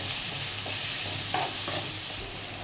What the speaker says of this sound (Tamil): கேரட்டு போட்டுங்க, தக்காளி எல்லாத்தையும் போட்டு வதக்குங்க.